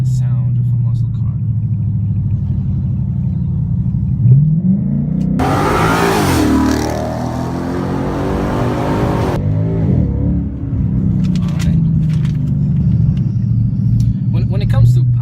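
A 2016 Ford Mustang 5.0 V8 fitted with a DRIFT Xaust exhaust rumbles at idle up close, then roars through a hard, sustained rev before dropping back to a deep, lumpy idle with a few short blips.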